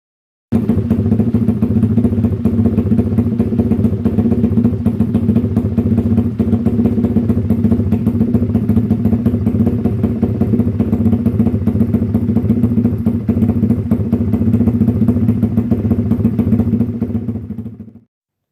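A bored-up Yamaha MX King 200cc motorcycle engine runs steadily at idle, close and loud, with a rapid even putter and light mechanical clatter, cutting off abruptly at the end; no talking.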